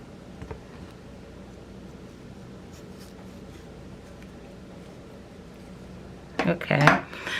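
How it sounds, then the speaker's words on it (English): A knife slices pieces of aloe vera leaf in half. The first several seconds are quiet room background, then a short burst of crisp, wet crunching cuts arrives near the end, close and fairly loud. "next you want to take those pieces and cut those in half"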